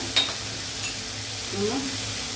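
Tomatoes softening in a hot pan for a chutney, a low, even sizzle held close throughout with a faint clink near the start and no clear speech.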